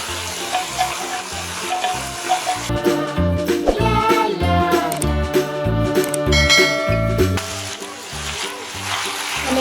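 Chicken, ketchup and vegetables stirred together in a pan for chicken macaroni, a soft frying sizzle with scraping and stirring clatter, mixed under bright tonal background sound throughout.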